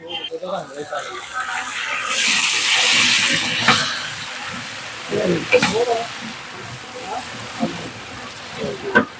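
A ginger-garlic paste frying in a pot with golden brown onions for chicken biryani gives a loud sizzle that flares and settles, with intermittent stirring clatter and someone talking over it.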